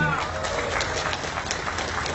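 Crowd applauding at an outdoor gathering during a speech by Jokowi on Sumba island, dense continuous clapping from many people with no pauses.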